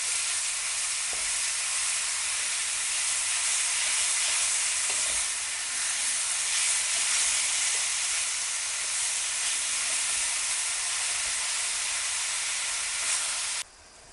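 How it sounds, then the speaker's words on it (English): Minced meat for chilli con carne browns in a pan over high heat with a steady, loud sizzle and hiss, with occasional stirring scrapes, continuous and close. "So we want this to break down now and brown if possible. So I'm cooking it on a high heat."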